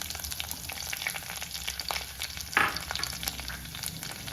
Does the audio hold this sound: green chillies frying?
yes